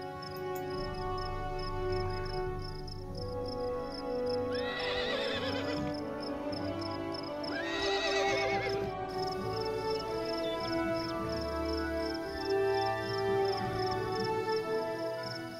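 Wild horses neigh twice in long whinnies amid a steady chorus of crickets, with faint hoof shuffles in the background, at McCullough Peaks, Wyoming.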